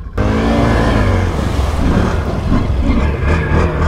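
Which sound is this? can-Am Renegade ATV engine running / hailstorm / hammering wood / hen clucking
can-Am Renegade ATV engine running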